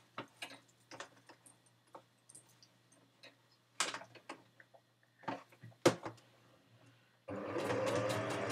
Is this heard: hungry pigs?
no